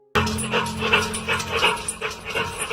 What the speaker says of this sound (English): A low panting sound starts echoing through the pipe.